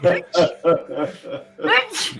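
A person sneezes several times in quick succession, close and loud, with short breathy bursts and a sharp final sneeze at the end.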